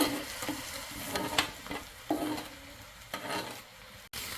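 Puran filling of dal and jaggery being stirred and fried in ghee, a soft sizzle broken by repeated spoon scrapes and knocks against the pan at irregular intervals, close and moderately loud, with no voices.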